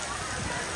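Steady rain at a resort, a constant close hiss of falling water and drops on surfaces filling the whole moment, with a possible faint murmur of voices underneath.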